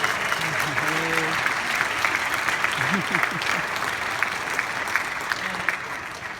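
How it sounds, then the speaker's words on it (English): Sustained applause from a crowd at a community forum on homelessness, steady dense clapping across the whole stretch with a few voices faintly audible underneath. "I want everyone to give a round of applause to this panel"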